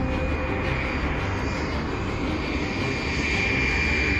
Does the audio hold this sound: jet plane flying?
yes